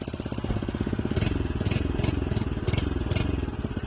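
Phatmoto motorized bicycle engine running close by, a rapid, even putt-putt chug with a steady rhythm throughout, fairly loud and alone.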